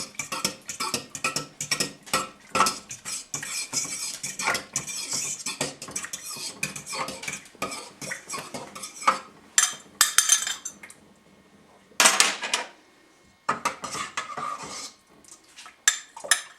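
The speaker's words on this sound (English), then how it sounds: "Just keep stirring as they go in." Eggs being stirred into homemade bread dough in a bowl produce rapid, uneven scraping and knocking of a utensil against the bowl, pausing and resuming in bursts, with no voices.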